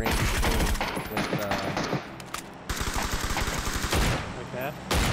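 Gunfire in the video game PUBG: bursts of rapid automatic shots and single cracks in quick succession, loud and dense, with a voice speaking over the firing.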